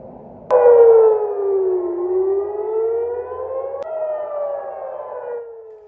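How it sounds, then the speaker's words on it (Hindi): An air raid siren in Jerusalem wails loudly and alone, its tone sliding down and then climbing back up in a long sweep, then restarting after a sharp click and fading again. "यरूशलेम में सायरन की आवाज गूंजती हुई सुनाई दी है।"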